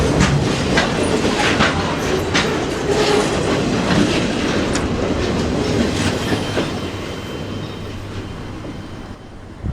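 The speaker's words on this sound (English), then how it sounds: "I've never seen a combined rail and machine train before" A combined rail and machine maintenance train rolls past on the Bone Valley line, loud and close, with rhythmic clacking wheels and a rumbling roar that slowly fades toward the end.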